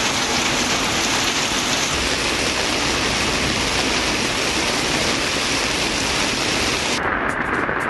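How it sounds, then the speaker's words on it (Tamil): Heavy thunderstorm rain pours down in Sankarankovil, Tamil Nadu, sending water flowing across the roads, a dense, unbroken hiss of downpour that stays loud and even throughout. "நேற்று மாலை இடி மின்னலுடன் கனமழை பெய்தது"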